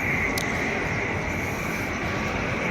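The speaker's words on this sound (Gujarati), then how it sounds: "આ બીજું વિમાન આવી રહ્યું છે એકદમ નજીક" An Indian Airlines jumbo jet flying very close by near Ahmedabad, a continuous loud engine roar that holds steady throughout.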